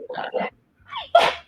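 A single sneeze bursts out near the end, preceded by two short voiced sounds and a quiet pause, during a tabletop role-playing session.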